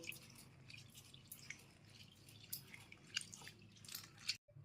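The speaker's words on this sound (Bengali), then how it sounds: "তিন থেকে চারবার এরকমভাবে কষলে কষলে ধুয়ে নেবেন" Matar dal lentils rubbed and rinsed by hand in water, faint close dripping, squishing and splashing in an irregular rhythm, with a brief silent gap near the end.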